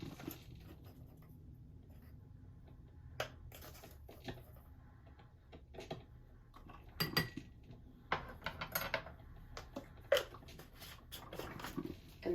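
Metal teaspoons clink and tap against jars and a bowl while chili powder is measured out, a scattered run of small, close clinks and scrapes in a quiet kitchen.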